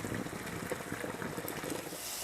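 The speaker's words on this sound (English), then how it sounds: "Once the pasta has cooked for 9 minutes, drain the pasta" Cooked pasta water being drained from a pot for pasta e fagioli, a steady rushing, gushing pour of liquid that fills the short stretch without pause.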